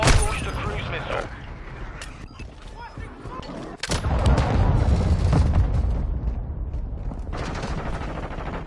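A cruise missile launches in Modern Warfare 2 amid loud battlefield gunfire and blasts, with a sudden heavy roar surging in midway and holding as a sustained rumble, under occasional voices.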